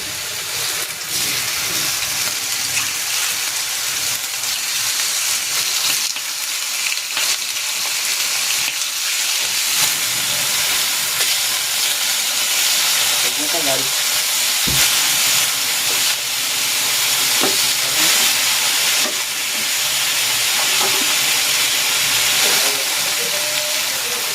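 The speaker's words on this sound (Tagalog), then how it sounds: "Maglalagay ako ng cooking oil. Pan-grill ko muna tong chicken." Chicken pieces pan-grilling in hot cooking oil give off a loud, continuous sizzle and hiss that runs unbroken throughout, with small pops now and then and no one speaking.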